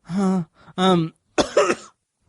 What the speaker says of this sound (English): Coughing all the time. I hate it.